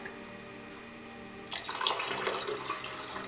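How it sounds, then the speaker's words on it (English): Water poured into orange chia pudding in a kitchen, a quiet splashing trickle starting partway through and continuing steadily at close range. "So I'm just going to add a tiny bit of water here,"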